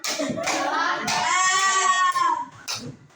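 Schoolchildren in a classroom clap a couple of quick times in unison during a clapping chant, the brief slaps close and mixed with high children's voices.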